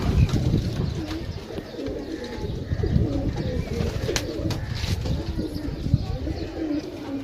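Pigeons coo repeatedly at a loft in Gujrat, Pakistan, a steady murmuring chorus of low, rolling calls with a few brief chirps, continuous throughout and fairly close.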